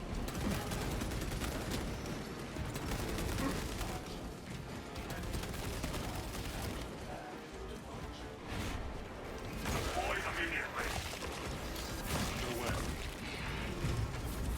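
Heavy bolter from Space Marine 2 firing explosive rounds in dense, continuous bursts amid a chaotic battle with crashes and blasts, and a voice talking over the din.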